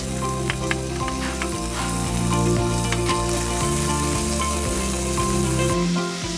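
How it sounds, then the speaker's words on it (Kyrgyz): Meat sizzling in hot oil at the start of cooking shorpo soup, a steady dense frying hiss with faint stirring scrapes, close and continuous with no talk. "Биринчи очередь биз этти кууруп алабыз."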